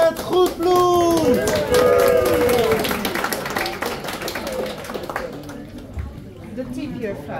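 A poetry club audience in Rotterdam claps for the next poet, a dense burst of clapping that fades after a few seconds, mixed with crowd chatter, a whistle-like tone and a voice speaking over the tail.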